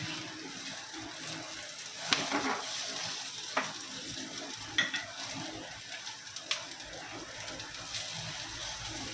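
Masala for a Kokani-style mixed vegetable dish fries in a pan with a continuous close sizzle, punctuated by intermittent stirring clicks and scrapes; no one talks.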